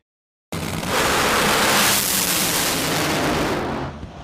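A 2019 NHRA drag racing crash with a car body launched into the air: a sudden loud roaring blast of broad rushing noise that swells, sustains for several seconds, then cuts off.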